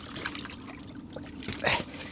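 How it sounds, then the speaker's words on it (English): Water trickles and splashes while a freshly caught, bleeding lake trout is rinsed beside an ice-fishing hut. The steady dribble is close, with a brighter splash near the end. "I was honestly just trying to rinse the fish off and evaluate it because it is bleeding"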